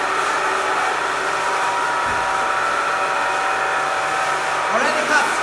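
A jewelry vacuum pressure casting machine's vacuum pump drones with a constant, even mechanical whir the whole time, loud and close, with a faint hiss near the end.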